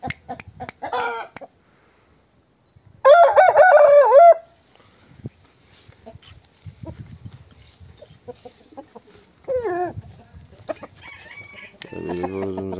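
A rooster crows loudly once, followed by quieter clucks, scattered crowing and farmyard noises with long quiet gaps.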